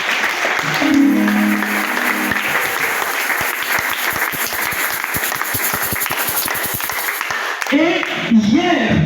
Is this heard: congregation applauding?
yes